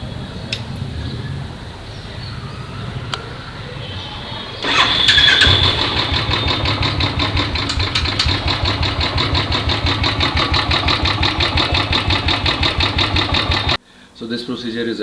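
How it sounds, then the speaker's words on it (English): A Royal Enfield Classic 350 motorcycle, its spark plugs freshly cleaned and refitted, cranks and fires up, then settles into a loud, steady idle thump that runs close and unbroken until it cuts off near the end. "So let's start the bike and see how it works."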